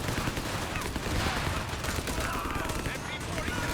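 Machine gun fire and scattered gunshots in a Company of Heroes 3 1v1 match between US and Wehrmacht forces, a steady rattling fusillade of battle noise running throughout at moderate distance, with a commentator's voice over it.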